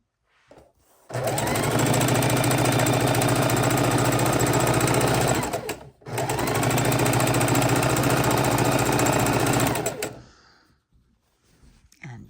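A sewing machine stitches quilt blocks together in two long, fast, steady runs, close and loud, separated by a brief pause midway, with quiet handling noises before and after.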